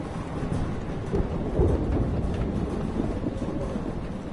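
A thunderstorm in Life is Strange, with a steady roar of heavy rain and a deep rolling rumble of thunder swelling and fading, loud and continuous with no voices.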